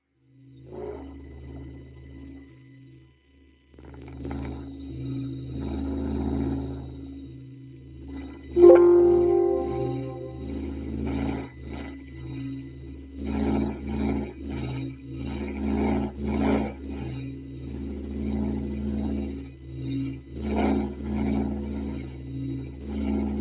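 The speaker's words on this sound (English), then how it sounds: "So that's the sound of the plasma from the sun translated into audio." Solar plasma from the sun converted into audio: eerie, droning tones with a low hum and wavering whistles, rising and falling slowly like a synthesized space sound, no speech.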